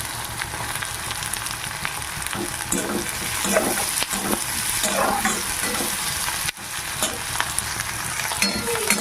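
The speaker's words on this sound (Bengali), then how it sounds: "পেঁয়াজ কুচিটা একটু ভেজে নেব" Chopped onions with green chillies fry in a pan, giving a continuous loud sizzle with intermittent stirring scrapes close to the microphone and no talking.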